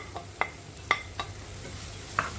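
Chopped cabbage and small pieces of carrot sautéing in a pan, a quiet soft sizzle broken by a few sharp clicks and scrapes of a utensil stirring, with no voices.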